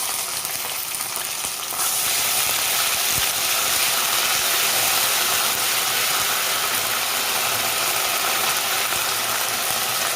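An electric mixer grinder pulverising spice masala for a paneer and peas gravy: a continuous harsh whirring roar that jumps louder after about two seconds and holds steady, close and alone.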